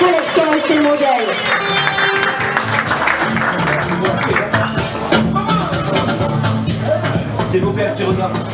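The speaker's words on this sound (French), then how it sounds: "des applaudissements pour Malika" Audience applause and crowd noise at an urban fashion show in Paris, sustained clapping filling the room while a presenter speaks over it throughout.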